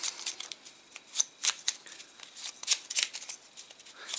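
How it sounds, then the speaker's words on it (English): Paper game strips from a print-and-play space game are shuffled by hand in close, crisp bursts of riffling and flicking, with no talking. "Then you take the green ones and you give them a shuffle."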